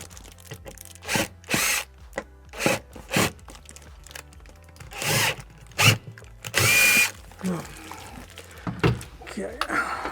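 A power drill whirs in short repeated bursts while fitting out a Volkswagen Caddy campervan conversion, each burst close and loud and separated by pauses, with people talking nearby between bursts.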